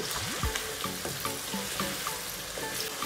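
Chicken frying with yogurt and spices in a pot, a continuous close sizzle with bubbling pops and repeated scraping stir strokes at an uneven rhythm.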